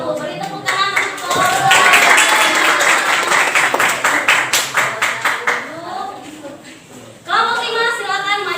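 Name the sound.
applause in a classroom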